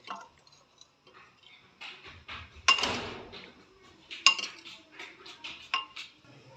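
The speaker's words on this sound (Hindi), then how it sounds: "ये कॉर्नफ्लावर में पानी थोड़ा डाल के इसको मिक्स करके तो उसके बाद उसमें सूप में ऐड करेंगे।" Cornflour and water mixed with a spoon in a small bowl, giving quiet intermittent clinks and scrapes of metal on the dish with a couple of sharper knocks.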